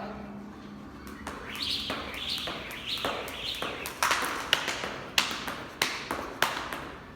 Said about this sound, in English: this should sound similar if you just listen to my feet and not the rope